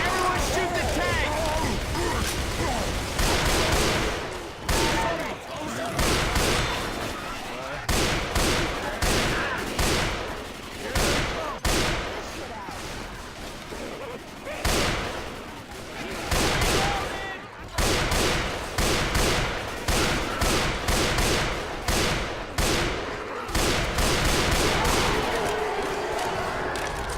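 Sustained video-game gunfire from Left 4 Dead 2 as players shoot at a Tank, with dense rapid shots and bursts continuing for the whole stretch, loud and busy, with voices talking over it.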